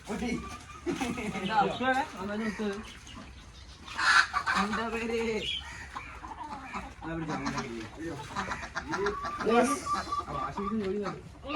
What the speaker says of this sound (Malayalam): പൂവൻകോഴി ഇപ്പൊ പറന്നു കിട്ടും